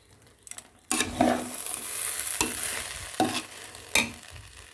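Paneer and rice sauté in a pan for a vegetable biryani, sharp stirring scrapes and bursts of sizzling, loud and close, with several distinct strokes.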